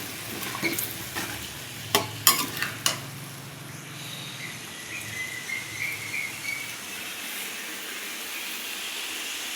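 Fish and taro stems curry stirred in a frying pan after the spices are cooked down: a few sharp scrapes and clanks near the start, then a steady soft sizzle with light stirring noises, close and moderately quiet, with no talk.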